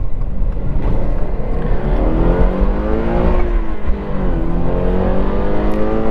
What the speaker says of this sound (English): I love how high the revs go up in this car.